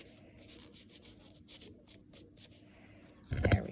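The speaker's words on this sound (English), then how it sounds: "we're going to clean it with the alcohol scrub again" Fingernails are rubbed clean with an alcohol scrub after dip nail removal, giving soft, quick, rhythmic swishing strokes that are faint and close, ending with a louder brief rustle.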